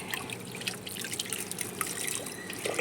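Fresh water poured from above into a garden water tank, a continuous bright splashing and trickling that stays steady and fairly loud throughout, with no voices.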